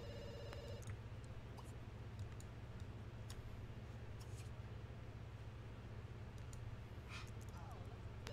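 A telephone rings in The Sims 2 during a university life session, its repeated ringing faint and set against a steady, dense game background noise that runs throughout.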